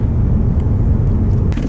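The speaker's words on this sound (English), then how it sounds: "this thing is equipped with the Corsa catback system, which sounds absolutely amazing" A supercharged Mustang GT fitted with a Corsa cat-back exhaust idles or cruises with a deep, steady low rumble, loud and close, a brief sharp click near the end.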